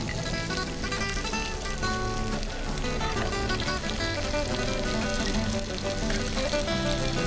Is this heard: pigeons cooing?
no